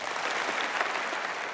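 A crowd in a conference hall applauds a political speech, a short, even burst of many hands clapping together at moderate loudness.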